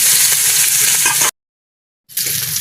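Bitter gourd fries in oil with green chili and chopped onion, giving a loud, close, crackling sizzle. The sizzle breaks off into about a second of silence, then resumes.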